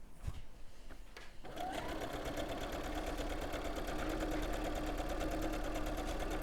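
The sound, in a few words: overlocker sewing fabric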